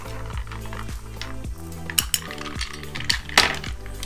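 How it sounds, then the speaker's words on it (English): A bar spoon clinks and scrapes against a glass while stirring an old-fashioned cocktail with whiskey and ginger, a close run of rhythmic metallic taps and rattling ice with sharper chimes, no voices. "get your little stirring spoon. Just give it a little bit of a stir."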